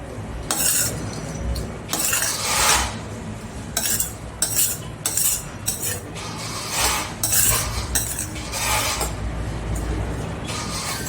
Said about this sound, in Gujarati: હવે બધું મિક્સ કરી લઈશું.